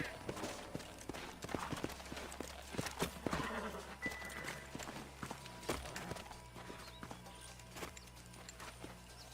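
Horse hooves clop along at a walking pace in the Red Dead Redemption video game, uneven repeated thuds close by over a soft ambient background, with a voice speaking briefly.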